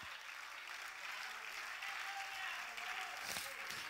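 A church congregation claps hands in praise, a steady, fairly faint wash of many hands heard alone and continuing throughout.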